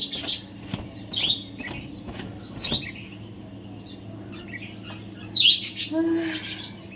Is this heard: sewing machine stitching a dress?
no